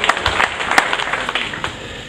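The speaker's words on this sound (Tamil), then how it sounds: "இங்கே மீண்டும் ஒருமுறை உங்களுடைய கரகோஷம்" An audience at a prize-giving ceremony claps together in a brief burst of applause, a dense patter of hand claps heard fairly close and loud for about two seconds.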